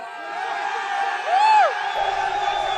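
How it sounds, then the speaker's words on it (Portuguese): São Paulo supporters at Morumbi stadium roar in a dense crowd, with a rising whoop swelling in the middle over constant cheering and shouting that keeps going throughout. "Vocês viram aí o gritinho"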